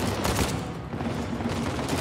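Gunfire in Uncharted 4: A Thief's End, a dense, continuous volley of rapid shots with no pauses, loud and close.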